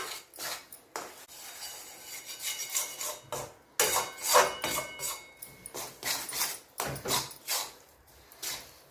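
Flour and jaggery are stirred together for Gujarati sukhdi, giving repeated scraping, rasping strokes of a utensil against the pan in an irregular rhythm, fairly quiet and close.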